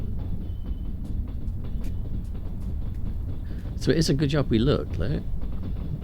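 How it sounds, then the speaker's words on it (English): Trains pass by in the Trans-Siberian Railway Simulator game, a steady low rumble running throughout, with a person talking over it partway through. "See, there are trains coming."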